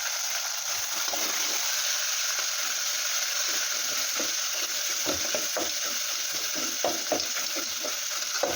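Chopped ingredients fry in a pan with peanuts for upma, making a continuous hissing sizzle broken by repeated scraping stirs that grow busier toward the end.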